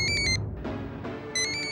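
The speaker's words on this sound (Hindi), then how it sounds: "सुमन, फोन उठाओ।" A telephone ringtone trills in bright, repeating bursts, stops briefly while muffled sounds fill the gap, then rings again.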